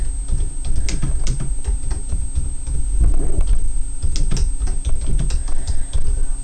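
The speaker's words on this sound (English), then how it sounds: "if I start typing" Someone types text on a computer keyboard in a web design program: close, crisp key clicks in quick, irregular bursts with brief pauses, and no voices over them.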